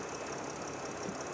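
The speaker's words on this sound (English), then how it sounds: "It sounds good. Can you come show the engine, Matt?" A brand-new replacement engine in a Mercedes Sprinter van runs steadily at idle, a continuous close mechanical hum and clatter with no talk over it.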